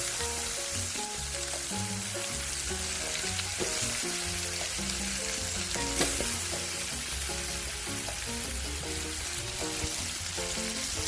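Pea eggplant stir-frying with sea catfish in a hot pan, a loud, steady sizzle with constant stirring scrapes running throughout, close up and without talk.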